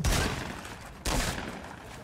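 Gunfire in the Fortnite battle royale video game, two loud bursts of rapid shots about a second apart, each tailing off, with no talk over them.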